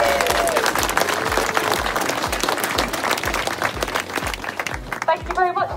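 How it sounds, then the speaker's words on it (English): An outdoor crowd at a 4K–10K trail running race claps for the volunteers and marshals, a dense burst of applause heard close, with a voice speaking over it and cheers near the end. "If you could give them a round of applause, please!"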